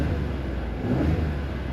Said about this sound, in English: let's go ahead and hear that twin turbo V6.